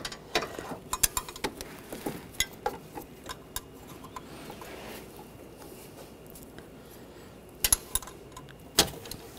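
Wrench cracking loose the water pump pulley bolts on a 2013-2019 Ford Escape 2.0L four-cylinder: scattered metallic clicks and ratcheting clunks close by, with a few sharper bursts of clatter near the end.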